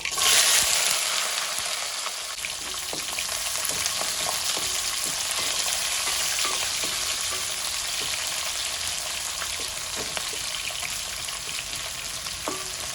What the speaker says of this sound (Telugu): నూనె వేడవగానే ఇవి వేసేసుకుందాం అవి జస్ట్ క్రాకల్ అవ్వగానే ఇవన్నీ వేసేసుకుందాం